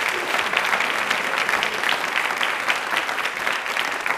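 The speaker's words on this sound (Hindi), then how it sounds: "तालियाँ एक बार ज़ोरदार वंदना मैम के लिए" A crowd claps loudly and steadily for several seconds, a dense patter of applause with no pauses.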